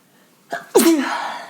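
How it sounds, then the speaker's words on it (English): A single loud, close sneeze: a quick sharp intake of breath, then a forceful wet burst that trails off. "It was a spitty sneeze."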